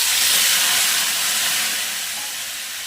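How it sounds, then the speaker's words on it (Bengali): Onion paste drops into hot oil already frying with black cumin and white cumin, giving a loud, steady broadband sizzle that eases slightly over three seconds, with no talking. "এবার আমি এই দেখো পেঁয়াজ বাটা দিয়ে দিলাম।"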